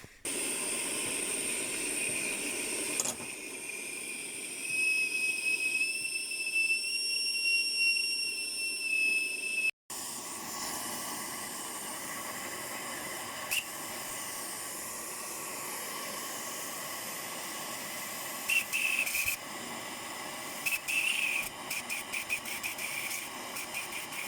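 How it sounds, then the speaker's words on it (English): A homemade steam whistle on a boiler blows in long, steady shrieks with a broad hissing rush of steam beneath, pausing briefly midway before sounding again with a slightly changed tone. "Okay, this is, I think, the third version of the whistle."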